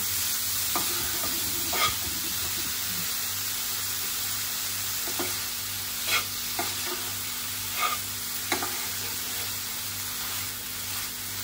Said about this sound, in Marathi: आणि मावा घालायचा आहे तुपावरती भाजायला चांगला। मावा चांगला परतून घ्यायचा।